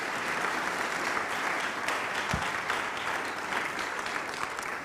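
A church congregation breaks into sustained, loud applause, with dense clapping that fills the room and carries steadily throughout without pause.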